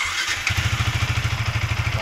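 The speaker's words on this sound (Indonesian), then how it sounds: "Kita hidupin motornya." A Yamaha Vixion motorcycle engine cranks briefly and catches, then settles into a steady, close, rhythmic idle thump.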